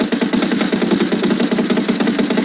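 A vehicle engine in the BGMI mobile battle-royale game drones loudly and steadily with a rough pulsing rumble, continuous and close throughout.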